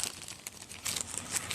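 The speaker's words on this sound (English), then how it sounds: "I've never taken it out of the plastic bag." Plastic bag crinkling as a water filter is unwrapped for the first time, a short burst of close, bright rustling with irregular crackles.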